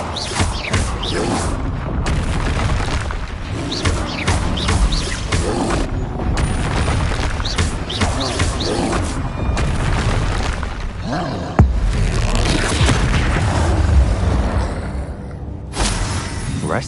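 Confringo fire spells exploding during a Hogwarts Legacy battle: a dense, loud barrage of overlapping booms and crackling blasts that keeps going almost without a break, layered with combat noise.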